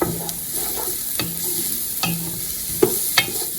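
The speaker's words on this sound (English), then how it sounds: "I'm going to get these sauteed." Onions sautéing in a pan give a steady sizzle, broken by several sharp stirring scrapes spaced through the stretch, close and fairly quiet, with no talking.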